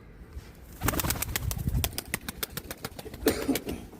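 A pigeon flies close by with loud, rapid wing flaps and claps in a neighborhood setting, with a faint coo and background sounds.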